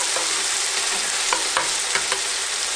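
White wine vinegar bubbles and reduces in a hot pan beside salmon steaks and capers, giving a bright continuous sizzle with a few clicks of a utensil, close and unbroken by speech.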